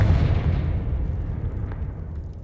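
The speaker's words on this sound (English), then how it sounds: "And we can light the fire." A fire flares up in the video game Hogwarts Legacy as a steady, loud low roar, whooshing and rumbling for a couple of seconds with no talk over it.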